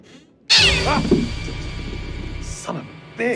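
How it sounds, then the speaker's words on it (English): Cat meowing inside the horror game The Devil in Me, a loud sustained meow with rising and falling cries over dense game ambience and a low rumble, ending in a short second call. "just a stupid cat"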